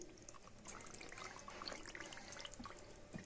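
Hot broth poured over macaroni in a baking dish, a faint, continuous trickling pour with small splashes and drips, heard alone.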